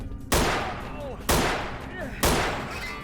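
Three loud, evenly spaced gunshots in the video game Vampire: The Masquerade Bloodlines, each a sharp close blast with a short decaying tail, fired about a second apart.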